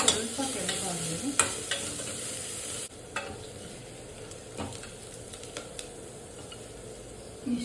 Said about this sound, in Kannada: ಈರುಳ್ಳಿ ಸ್ವಲ್ಪ ಕೆಂಪಾಗಲಿ.